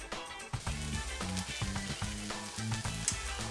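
Onions sautéing in a pan with a teaspoon of sugar give a steady close sizzle that runs throughout, with background music playing over it.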